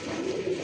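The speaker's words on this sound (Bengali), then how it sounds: "কোকা কবুতরের বাচ্চাগুলো দেখেন" Koka pigeons coo softly in short, low, murmuring notes at close range, with no talking over them.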